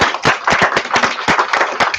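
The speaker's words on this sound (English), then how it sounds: "You guys can clap. I heard someone clap." Audience clapping at a student photo exhibition and talks: a short, close burst of brisk, uneven handclaps from a small group, loud and crisp with no voices over it.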